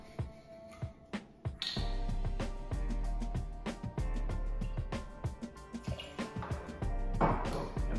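Banana liqueur poured for a banana daiquiri, a steady close liquid stream with small drips and clinks at the start and end.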